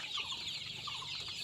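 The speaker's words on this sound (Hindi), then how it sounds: "ये हमारा सोनाली मुर्गी का फार्म है।" Sonali chickens on a West Bengal poultry farm keep up a dense, steady chorus of clucking and chirping that fills the whole stretch at moderate loudness, with no voices.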